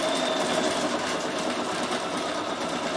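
A Bernina 7 Series embroidery machine stitching outlines, a fast, steady mechanical whir with rapid needle chatter, close and continuous with no voices.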